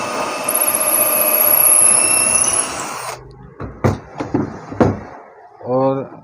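A Makita or Bosch cordless drill bores into wood with a dull bit, giving a steady loud whine for about three seconds under heavy pressure, then short bursts of drilling and a brief motor whir.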